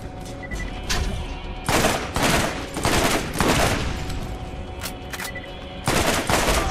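Guns fire in the video game Borderlands in rapid automatic bursts of loud, close gunfire, separated by short lulls and a few single shots, with no talk.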